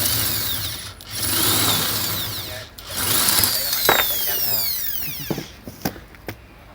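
A small electric drill with an undersized bit whirs in bursts close by, its motor pitch rising and falling, with clicks and rattles between runs and faint voices underneath.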